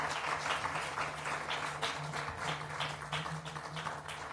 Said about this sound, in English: May I ask all of you to give a huge applause to our presenters?